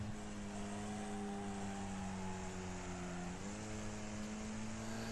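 Race car engine in the Wreckfest racing game, a steady loud drone with a sustained high pitch that shifts upward mid-way as the car powers onto a straight, with no talk over it.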